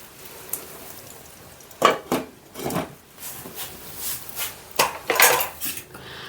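A lid goes onto a pot of Bengali shukto with several sharp metallic clatters and clinks of cookware. The knocks are spread irregularly across a quiet kitchen background.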